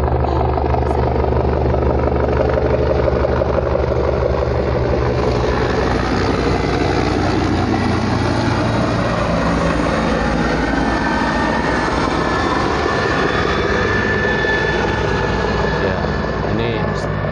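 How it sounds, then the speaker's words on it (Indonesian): A helicopter flies overhead, its loud, steady engine and rotor roar lasting throughout and swamping everything else, with no clear voices on top. "Hampir setiap 5 menit kita ini didatangin tamu helikopter"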